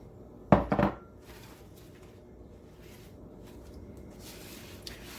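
Chopped whole green chilies tip into a soup pot with a short burst of soft clattering thuds near the start, then a low quiet room hum for the rest.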